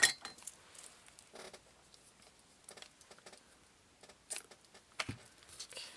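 Scissors snip through soft burlap ribbon, giving faint, scratchy, fibrous crunches in short irregular bursts with quiet pauses, close by and with no talking.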